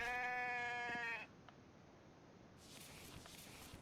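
Sheep bleats in a video game, a loud, wavering harmonic call lasting about a second and then cutting off, followed by quieter game ambience with a few faint clicks.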